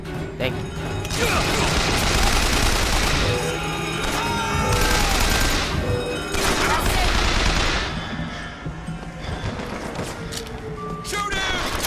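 Sustained in-game gunfire and bursts of shooting in the shooter BioShock Infinite, loud and dense for most of the stretch, with overlapping shots and crashes that thin out toward the end.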